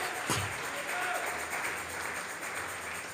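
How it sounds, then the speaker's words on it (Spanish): Church congregation clapping as an offering to God, a soft, distant, continuous patter of applause filling the short stretch under a faint room murmur. "Vamos a regalarle ofrenda de palmas al Dios de la gloria."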